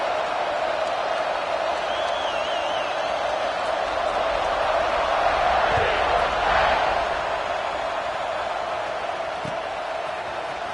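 Large football stadium crowd at a university game, a steady distant roar of cheering that swells briefly midway, with faint whistles and shouts mixed into the wash of noise.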